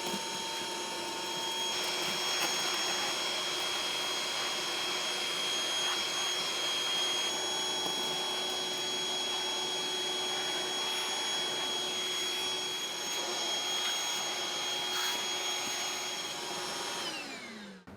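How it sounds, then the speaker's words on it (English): A vacuum cleaner runs continuously over old carpet inside a Pontiac Trans Am GTA, a steady loud whine with a high tonal hum that holds for the whole stretch and cuts off at the end. "it's a great idea to vacuum the old carpet first before you remove it"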